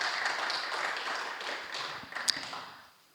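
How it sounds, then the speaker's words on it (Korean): Congregation applause at a Korean church Thursday gathering, a soft wash of many hands clapping that tapers away to quiet within a few seconds. "우리 한 번 더 서동란 언니를 위해서 박수 보내주십시오"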